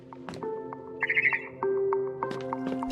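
A barn swallow chirps outside a window in the game What Remains of Edith Finch, a quick run of bright twittering notes over soft tonal game ambience, with a few sparse clicks and chimes around it.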